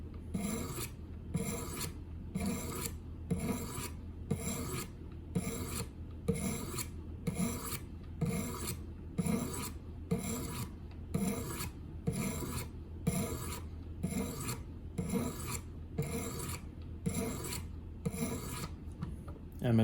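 Custom fixed blade knife stroked steadily across 1,000 grit whetstones, a regular rasping scrape repeating about once per second, close and even in level with no talking.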